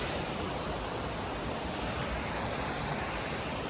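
A river flows steadily beside a green, lush, damp woodland stretch of the Appalachian Trail in Massachusetts, with a continuous broadband rush of water heard close and alone, with no talk.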